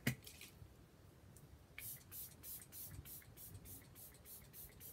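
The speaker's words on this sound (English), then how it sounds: "All right, some quick spray." An aerosol can hisses in a quick burst of short sprays, close and fairly soft, with a brief tap at the start.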